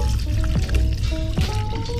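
Hot water at 92 °C poured over ground coffee for a homemade latte, a continuous close trickle and splash with faint rising tones as the grounds fill, with no talking.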